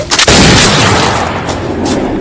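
A single loud, booming pistol shot rings out in a John Wick film duel after a short tap, followed by a long echoing decay that rolls on for about two seconds.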